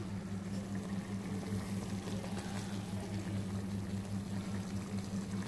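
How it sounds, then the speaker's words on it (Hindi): Oil being poured into a karahi pan for chicken karahi, a steady continuous wash of liquid noise with a low hum underneath, even and unbroken for the whole stretch, no voices. "अब मैं इसके अंदर ऑयल डालूंगा"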